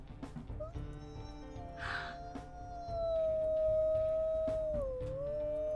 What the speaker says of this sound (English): she has the same squeaky howl as Kestrel did